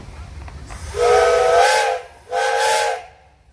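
A steam engine whistle blows twice at a steam engines parade, a long hissing toot followed by a shorter one, loud and fairly close.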